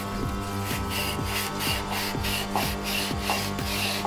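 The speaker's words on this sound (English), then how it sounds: "So I'm just using some Scotch-Brite here with a bit of lube." Scotch-Brite with a bit of lube is scrubbed back and forth on a gearbox input shaft, making a rhythmic, close, abrasive rubbing with regular strokes about twice per second.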